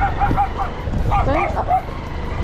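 A dog yips and barks in short bursts while people talk around it at an outing with an Arabian mare being taken to race, the barking mixed into the voices and steady background noise.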